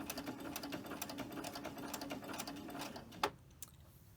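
A domestic sewing machine runs a double needle at a 2.5 stitch length, a fast, even mechanical chatter of rapid needle strokes that stops abruptly near the end, followed by a couple of soft clicks.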